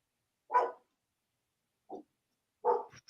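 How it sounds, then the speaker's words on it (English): A dog barks indoors, three separate moderate barks spaced over a few seconds with quiet between them, the last one trailing into a brief yip. "My dog is just barking and she didn't even know what she's barking at."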